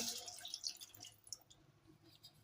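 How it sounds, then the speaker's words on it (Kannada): Water is poured into a pot of biryani, a faint, light splashing and dripping trickle with soft wet bursts early on, quiet and close with no talking. "ಈಗ ಒಂದು ಸ್ವಲ್ಪ ನೀರು ಹಾಕೋರಿ"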